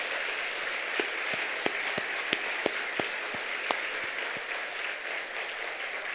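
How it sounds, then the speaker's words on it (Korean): A church congregation claps in encouragement of a choir at an evening revival service. The applause is steady and fairly faint, a few sharper claps stand out near the start, and it fades gradually. "이렇게 한 성가대를 위해서 한번 박수로 한번 격려해 주면 어떨까요?"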